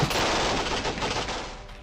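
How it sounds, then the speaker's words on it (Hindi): A dense, continuous burst of rapid gunfire during an Indian and French naval exercise, loud and rattling, like automatic weapons firing together without pause. "ताबड़तोड़ बरसती गोलियां"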